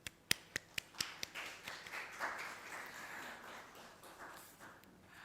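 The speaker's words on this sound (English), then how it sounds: "Please give them a huge round of applause." An audience at a Nepali community society gathering claps, a handful of sharp, separate claps at first that swell into a brief, faint round of applause before fading, heard alone without talk.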